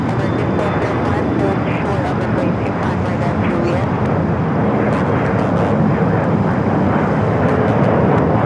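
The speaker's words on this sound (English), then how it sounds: "American Airlines 777-300ER, now pushing back." An American Airlines Boeing 777-300ER pushes back at Los Angeles LAX airport, heard as a steady, loud broadband jet engine roar that continues without a break, with voices talking over it.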